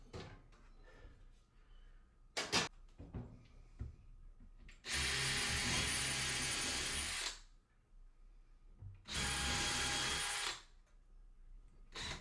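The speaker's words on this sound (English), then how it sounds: "I'm drilling those top ones at a little bit of an angle" A power drill whirs in two sustained bursts of a few seconds each, with a pause between, after some light clattering of tools, pre-drilling holes in wood at an angle for laundry room shelf brackets.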